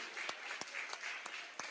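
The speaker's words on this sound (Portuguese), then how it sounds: "Você pode aplaudir o nome do Senhor." A church congregation claps during a Nazarene worship sermon, giving a steady patter of applause with sharper rhythmic claps landing about three times a second, moderately loud and without talk.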